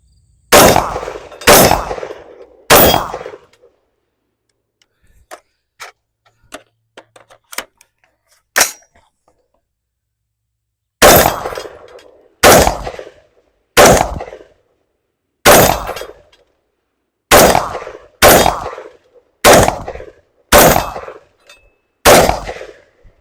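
AR-15 rifle shots ringing a steel target at 25 yards: loud sharp cracks in quick bursts of three, then a run of fainter ticks, then a steady string of eight more shots with metallic ring and short decay.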